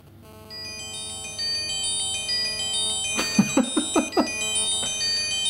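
An L8STAR BM70 mini phone rings for an incoming call, a steady tonal ringtone melody with sustained notes, joined midway by a few short rhythmic bursts; no one speaks.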